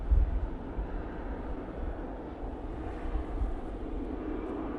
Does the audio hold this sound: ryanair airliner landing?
yes